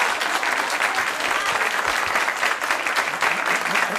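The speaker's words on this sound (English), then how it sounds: "save the applause till the end." Steady, loud audience applause at a public meeting, a dense continuous wash of clapping from a large crowd with no break.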